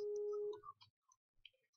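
A Skype call ringtone sounds as a steady electronic tone for about half a second, then breaks off into faint scattered blips and chirps.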